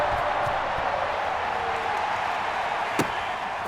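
A stadium crowd roars at an NFL Super Bowl game against the Tampa Bay Buccaneers, a dense, sustained wash of cheering with one sharp clap-like bang near the end.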